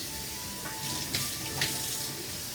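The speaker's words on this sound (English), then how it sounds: "I'm going to rinse them so that the water's not really warm anymore and it's cold." Cold tap water runs steadily over cooked shrimp in a sink, a continuous close splashing rinse with a few louder gushes as the shrimp are moved under the stream.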